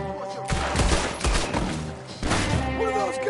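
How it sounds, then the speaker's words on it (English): Rapid gunfire in Red Dead Redemption 2's epilogue, several loud overlapping shots and bursts crackling close together over a dense, steady game din. "What are those guns they have?"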